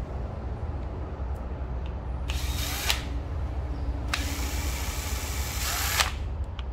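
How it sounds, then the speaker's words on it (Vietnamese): Japanese cordless three-function hammer drill running in hammer mode, giving two loud, close, rattling bursts, a short one and then a longer one, over a steady low background hum with no talking. "Này khoan búa nha các bác, ba chức năng ha"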